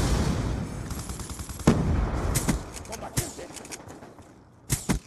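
Shotgun blasts from a gold KSG in Black Ops 2 ring out in a handful of sharp, spaced bursts amid game noise, with a voice talking over the action.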